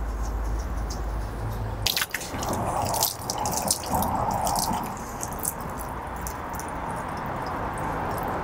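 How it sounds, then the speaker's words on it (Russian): Water rinsing a BMW hood at the emblem spot after badge removal, with splashing, dripping and running flow that starts abruptly and continues steadily up close. "Смываем водой."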